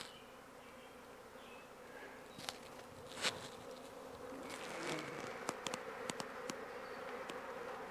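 A swarm of honeybees hums around a cage outdoors, a soft continuous buzzing drone with occasional closer bees zipping past the microphone and a few faint clicks, no talking.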